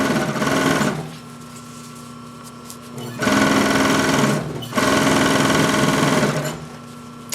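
A Singer 147-81 chainstitch sewing machine runs close by in three loud bursts of fast, steady whirring and rattling. Quieter pauses separate the bursts.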